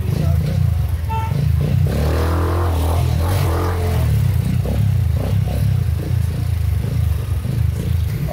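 A motorcycle engine idles and rumbles low and steady as the bike is pulled over and parked in a crowded, busy market, with a faint clatter and the murmur of the crowd mixed in.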